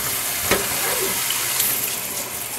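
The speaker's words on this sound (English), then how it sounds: "But I'll put some cold water on quick." Cold tap water runs hard into a colander of freshly blanched vegetables in a kitchen, a constant close hissing splash with one or two brief clatters, and no speech.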